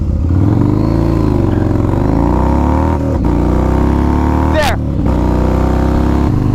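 A budget motorcycle is ridden hard, its loud engine whine climbing steadily in pitch under acceleration. Brief dips at gear shifts interrupt the climb, and the engine stays close and dominant throughout.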